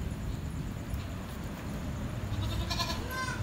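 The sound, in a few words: goats and kids bleating at market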